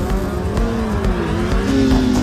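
Honda CBR motorcycles racing, a loud, close engine drone whose pitch rises and falls steadily as the riders go through the gears.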